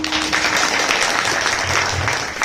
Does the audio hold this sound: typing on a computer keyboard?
no